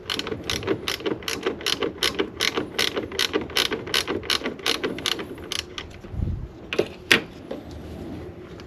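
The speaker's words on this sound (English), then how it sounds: "Remove the 13 mm bolt with the ratcheting wrench from the fan shroud." A ratcheting wrench works a 13 mm bolt out of the fan shroud on a 2007 Dodge Ram 1500 5.7 Hemi, making a fast, even run of loud, close clicks, then a few slower clicks and a faint rattle.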